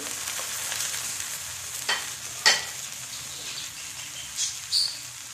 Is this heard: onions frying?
yes